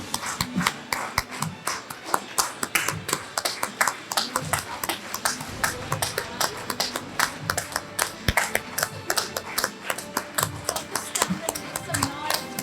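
Audience applause for children graduating in the class of 2021 at an academy graduation ceremony: dense clapping from many hands, steady throughout, with some voices mixed in.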